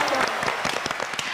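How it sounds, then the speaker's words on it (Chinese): Studio audience applause on a televised quiz variety show: a short, dense burst of steady clapping that fills the room, with voices mixed in underneath. "掌声鼓励。"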